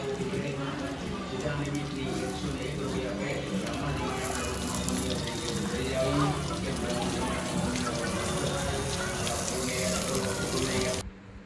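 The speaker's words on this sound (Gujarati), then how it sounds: "આ 2 પીપળા છે અને આ પાણી રેડવાનું છે." Water being poured onto pipal trees at Damodar Kund in Junagadh, a continuous splashing pour that runs steadily for about eleven seconds before cutting off abruptly.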